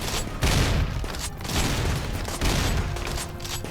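Gunfire in RimWorld during a siege: repeated loud, close bursts of shots and booms over a dense, noisy battle background, with no talking.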